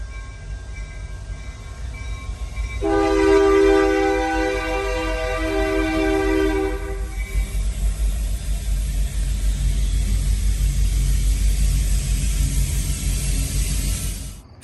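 A 71-car freight train rumbles steadily past at close range, with a train horn sounding for several seconds over the continuous rolling clatter.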